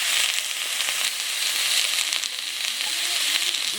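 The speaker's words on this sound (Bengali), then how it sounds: "এবারে আমি এখানে দিয়ে দেব ফুলকপি আলু মূলো একসাথে কেটে রেখেছিলাম আমি এটা দিয়ে দিচ্ছি একটু নেড়ে চেড়ে নিলাম" Cauliflower, potato and radish fry with onion in a pan, a loud, dense and continuous sizzle with light crackling, with faint stirring underneath.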